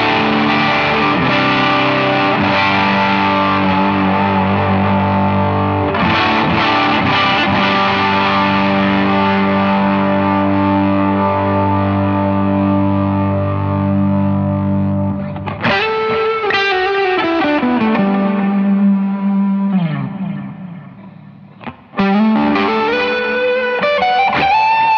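A Veritas Custom Minimaster electric guitar on its neck pickup rings through heavy effects, with long sustained distorted chords, then warbling modulated notes and a pitch-bending swoop, loud and alone with no talking.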